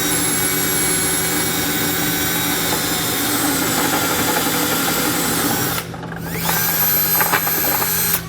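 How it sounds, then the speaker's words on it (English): A step bit drills through a 2019 Jeep Compass steel frame to enlarge a hole for a Curt trailer hitch, a loud continuous whining grind that briefly stops and then resumes. "I'm going to use a step bit, but again, I'm going to periodically check to see when I need to stop drilling."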